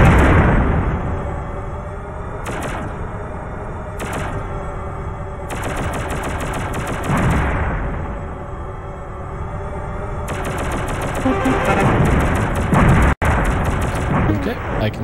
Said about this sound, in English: That's a lot of shots all at once.